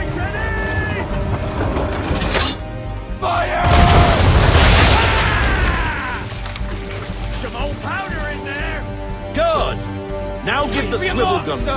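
Ship cannons booming during a naval battle in the Assassin's Creed 3 video game, a loud burst of heavy blasts around the middle over rumbling water and creaking ship sounds, with a voice shouting orders throughout.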